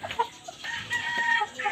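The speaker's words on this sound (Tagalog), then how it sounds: "check itong manok dito kung napakain na ba kasi may manok na kami guys" Backyard chickens in a rural province setting cluck and call close by in a short burst of several quick, uneven notes, with a faint crowing-like sound mixed in.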